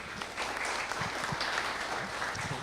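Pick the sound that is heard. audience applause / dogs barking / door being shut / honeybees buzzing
audience applause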